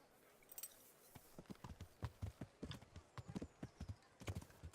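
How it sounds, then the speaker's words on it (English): Hooves clip-clop at a steady trotting rhythm as a late-game, armoured horse is ridden toward a castle in Kingdom Come: Deliverance, with the distinct hoof strikes heard fairly quietly over a faint background. "So I'll get on my horse here and I'll ride up to the castle."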